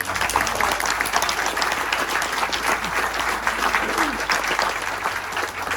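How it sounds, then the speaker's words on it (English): An audience at a 50th anniversary keynote event breaks into dense, sustained applause, many hands clapping steadily throughout, loud and continuous with no talk. "So a round of applause for Amy."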